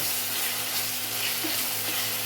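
Garlic-ginger paste sizzling steadily in a hot pan while being stirred, a dense continuous frying hiss with faint scrapes, no voices.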